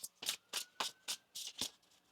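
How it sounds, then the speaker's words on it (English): Quick, crisp riffling bursts of a tarot deck being shuffled, seven or eight in a steady rhythm, close and fairly quiet. "One more shuffle here."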